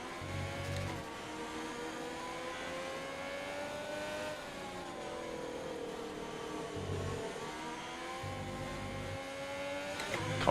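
A Formula 1 car in the F1 2020 video game howls around a wet, drying Hanoi circuit, its engine steady and continuous with pitch rising and falling through shifts, loud and close throughout.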